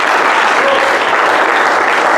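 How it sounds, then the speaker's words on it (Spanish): A church congregation breaks into loud, dense applause, continuous clapping filling the room without a break. "Me den un fuerte aplauso al que vive."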